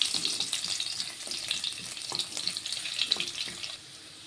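Finely chopped garlic sizzling in hot oil as it is stirred, a steady close frying crackle with occasional spatula scrapes, fading slightly at the end.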